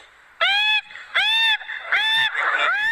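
Loud, nasal honking quacks from ducks, three or four sharp bursts in a row, close by with rustling in between.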